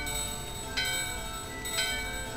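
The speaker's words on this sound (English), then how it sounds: "The bell in your hand and the bell in the door are ringing" Bell chimes in the Final Fantasy 9 video game at Gizamaluke's Grotto, two clear strikes about a second apart over a sustained tonal backdrop of game music.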